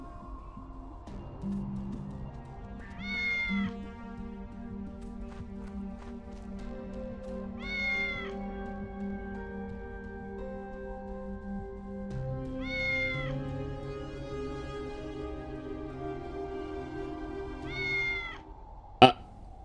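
Cats in the cyberpunk point-and-click video game Tales of the Neon Sea meow four times at even intervals over a low, steady ambient music bed, each call clear and close, with a sharp click at the end.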